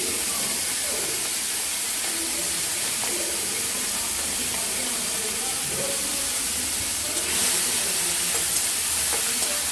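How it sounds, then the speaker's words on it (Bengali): Prawns fry in hot oil in a wok, giving a continuous dense hiss and sizzle that stays steady throughout, with no one talking. "চিংড়ি মাছগুলোকে আমরা ভালো মতো করে কড়াইতে ভেজে নেব"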